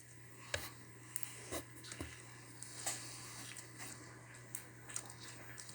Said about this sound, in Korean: 아삭아삭 소리가 너무 좋아요